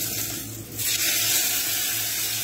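Bacon rashers frying in a little oil in a hot pan give a steady broadband sizzle. It runs continuously at moderate level with no talking over it.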